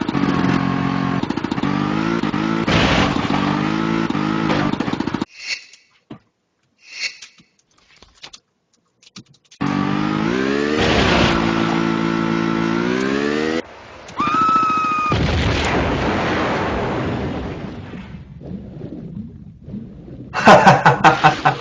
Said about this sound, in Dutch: Dat is scooter.